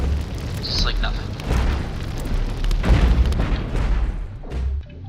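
Cannons fire in a video game against armor: heavy booms, about three of them spaced across the stretch, land with deep rumbling impacts while someone talks over them.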